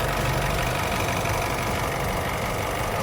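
A 2018 Honda CR-V SX with a 1.6 liter i-DTEC turbo diesel engine runs steadily, a close, even diesel drone with a low rumble and a faint clatter, no voices.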